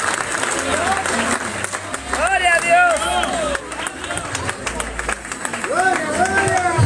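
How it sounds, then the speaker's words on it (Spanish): Congregation applause at an evening open-air church revival service, broad clapping mixed with crowd noise and cheering voices throughout, loud and steady under singing-like vocal tones. "Denle un aplauso al"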